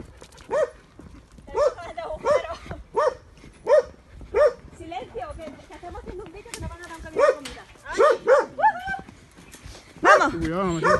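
Dogs at an animal shelter bark repeatedly in short, uneven bursts with occasional whimpers and yips, near and fairly loud, while a person talks between and over them.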